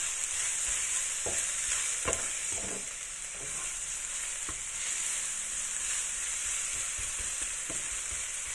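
Garlic sizzles steadily in a hot pan for a Chinese-style ground pork dish, a constant bright hiss broken by occasional scrapes and clicks of a spatula stirring close by.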